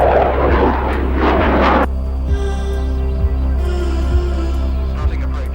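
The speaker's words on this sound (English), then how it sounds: "this potent fighting machine, the Tornado" A Tornado fighter jet passes with a loud, broad roar that cuts off abruptly, leaving a steady whining engine hum with sustained tonal drone.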